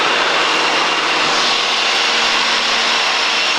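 Cessna 152 light aircraft engine droning steadily in level flight, a loud continuous roar with propeller buzz filling the whole cabin, no talk over it.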